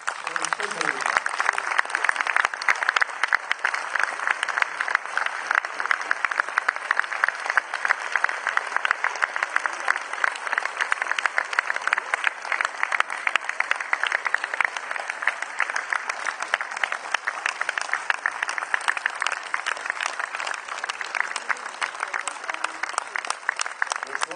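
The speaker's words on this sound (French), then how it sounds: "Diane Kruger et monsieur Danny Boone, que je vous demande d'applaudir." A cinema audience at a film premiere in Lyon claps for two of the film's actors in a long, dense round of applause that stays loud and even from start to finish, with faint voices mixed in.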